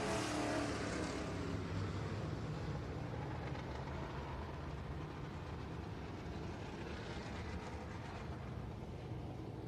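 A race car on a qualifying hot lap at Florence Speedway roars past, loud at first and then fading into a sustained, distant engine drone that carries on to the end.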